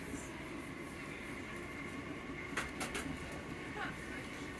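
Southern passenger train running through South Croydon, a steady low rumble of wheels and carriage noise from inside, with a few brief rattles and clicks partway through and faint voices underneath.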